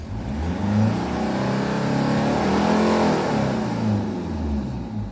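Hyundai Porter TCI double-cab diesel truck from 2006, manual transmission, revving up smoothly as the engine accelerates, a steady close mid-pitched drone that rises and swells before settling, with no talking.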